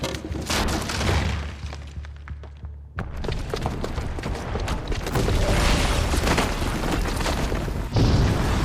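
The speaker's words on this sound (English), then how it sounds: "Because the booby trap on the bomb downstairs is gonna get set off." A bomb booby trap detonating in Horizon Zero Dawn Remastered, a loud booming blast followed by sustained rumbling debris and crashing clatter, with a second heavy burst near the end.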